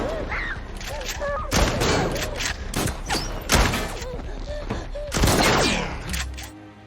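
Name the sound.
gunfire in an action film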